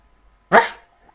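A single short dog bark from the video game Keduma, clear and fairly close, alone against quiet.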